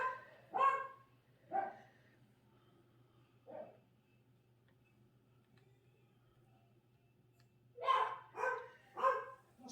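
Several dogs bark indoors in short bursts: a few separate barks, a pause, then a quick cluster of three or four barks near the end, fairly close, over a low steady hum.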